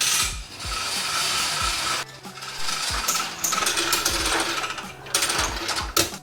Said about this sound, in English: look how nice the hose retracts